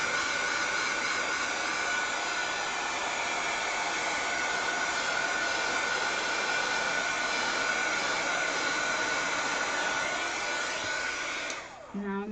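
A hair dryer held fairly high above plastic parts to dry them gives a loud, steady whooshing blow that runs unbroken for the whole stretch and cuts off abruptly near the end.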